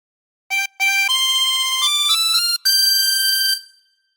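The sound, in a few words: chromatic harmonica playing a phrase of the Star Spangled Banner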